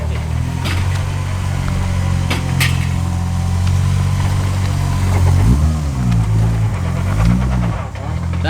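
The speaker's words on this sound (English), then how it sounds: "I want to hear it go past changing gears" A Toyota JZX90 converted to a manual gearbox drives past. A steady engine drone rises and dips as it shifts gears, with some background noise and no clear speech.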